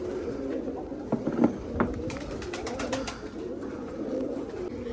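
Soft red pigeon coos repeat in a low murmur under steady outdoor background noise, with a few brief louder calls near the middle.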